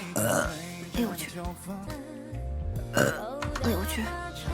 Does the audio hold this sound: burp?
yes